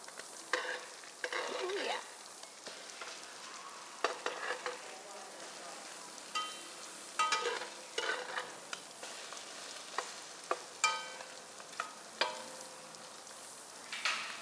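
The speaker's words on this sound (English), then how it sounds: "We're going to give it a few turn and toast, and our bread is ready." Bread toasting in a frying pan while pan-grilled fish and chips are cooked at home: a soft background sizzle broken by repeated scraping and turning clatters, with no talk.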